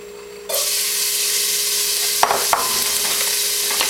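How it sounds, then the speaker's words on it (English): Onions hit a preheated pot of hot extra virgin olive oil over medium-high heat and burst into a loud, steady sizzle, with a couple of brief stirring scrapes partway through. "I'm going to give them a saute."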